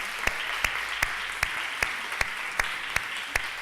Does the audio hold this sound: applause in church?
yes